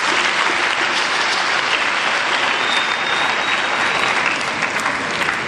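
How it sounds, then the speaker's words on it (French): Dense, steady audience applause at an official launch event, loud and sustained, many hands clapping together as an unbroken wash of sound throughout. "Je souhaite qu'on les applaudisse aussi."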